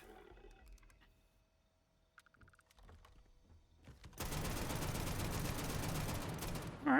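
AK000 rifle loaded with explosive rounds in Starfield, a loud, dense rattle of rapid fire with blast noise starting about four seconds in and running steadily to the end, after quieter clicks and tones.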